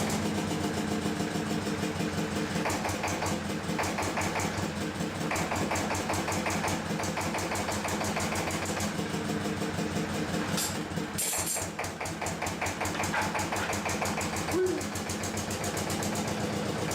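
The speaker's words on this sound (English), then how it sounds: "The 2 in AVA2 denotes that this model is a two-cylinder version, providing more power and smoother operation compared to single-cylinder variants." A 1958 AVA2 two-cylinder stationary engine runs steadily up close, with a fast, even mechanical chugging and rhythmic clatter throughout. A couple of brief sharper knocks or clanks cut in near the end.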